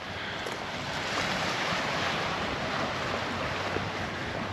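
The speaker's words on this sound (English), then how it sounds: "There's actually some waves which are hitting the beach" Sea waves wash onto the beach at Santa Ponsa, Mallorca, on a winter day, a steady broad rushing surf with a gentle swell in the middle, heard alone under light wind on the microphone.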